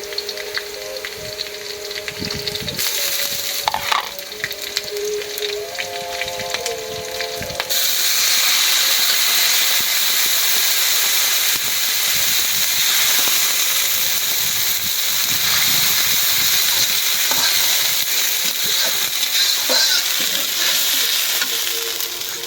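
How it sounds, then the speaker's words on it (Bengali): Cardamom and cinnamon sizzle steadily in hot oil in a cooking pot, a loud continuous frying hiss that grows denser and brighter partway through, with faint clinks early on. "একটু এলাচ দারচিনি আস্তে দিলাম।"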